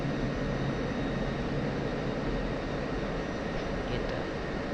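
A jet aircraft landing in the DCS flight simulator, heard as a steady, dense engine roar with broadband rushing noise that holds evenly throughout, loud and unbroken.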